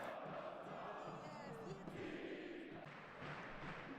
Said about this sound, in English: Decent Legnica crowd on the far side.